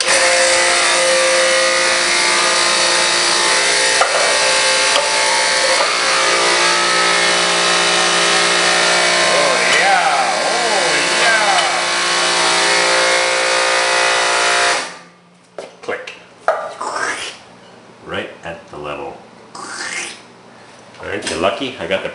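A sewer cleaning machine's engine runs hard at full pressure, a loud continuous drone for most of the stretch before cutting out abruptly, followed by sporadic bursts, clatter and scattered voices.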